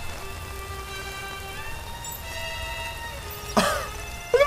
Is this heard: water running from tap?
no